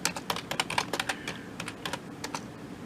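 Irregular bursts of keystrokes on a computer keyboard, close and fairly crisp, with short gaps between taps.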